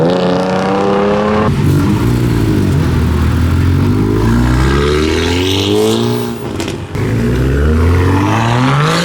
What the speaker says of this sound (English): The V6 Camaro doing a burnout.